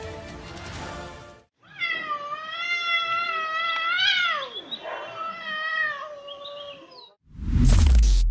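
A cat gives one long, loud, wavering meow that bends into a yowl and holds for several seconds, framed by brief bursts of other noise before and after.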